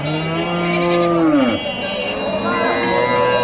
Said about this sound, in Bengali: এটা গাভী, এটা বাচ্চা।